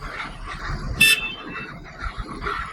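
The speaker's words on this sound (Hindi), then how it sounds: "और पे हॉर्न बजाए जा रहे हैं" A single short car horn toot rises above a low background rumble, with no talking.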